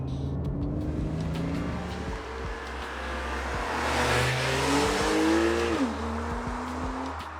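A Porsche engine in sport mode climbs in pitch as it revs hard through the gears, with a brief dip at a shift before pulling up again, close and steady.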